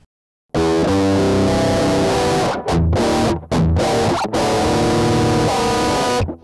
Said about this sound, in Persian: خود متال کور رو بشنویم حالا به عنوان یک پدال دیستورشن